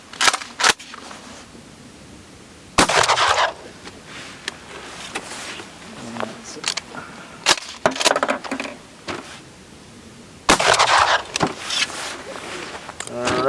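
A Mossberg shotgun fires outdoors: several sharp, loud blasts come at irregular intervals, each followed by a brief rumble and echo, with quieter handling noises in between.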